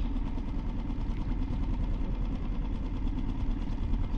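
A 3.5 hp Mercury four-stroke outboard motor on a 14-foot Sportspal canoe runs at a steady idle close by, an even low drone with a slight rapid chugging.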